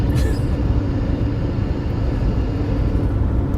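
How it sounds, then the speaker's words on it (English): A train passes nearby in western Nebraska during a storm chase, producing a loud, steady low rumble and roar that continues throughout with no break. "There's a train."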